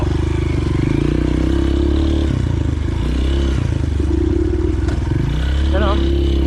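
A Honda CRF230F dirt bike engine drones loudly uphill on a trail with the throttle held open, rising and dipping slightly. People talk over it.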